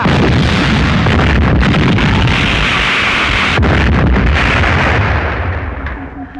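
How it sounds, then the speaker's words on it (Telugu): A bomb explodes in a Telugu movie comedy scene, a loud, sustained roaring blast with crackling bursts that fill the whole span before slowly fading at the end. "బాంబు పెట్టాం, కాసేపట్లో పేలుతుంది"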